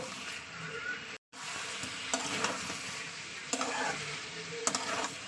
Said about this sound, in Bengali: এক দু মিনিট একটু আলুর সঙ্গে কষিয়ে নেবো মশলাটাকে